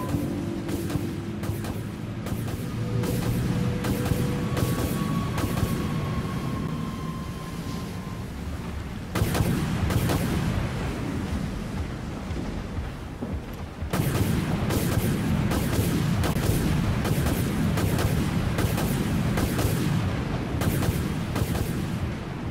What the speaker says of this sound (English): Locked onto target. Missiles away.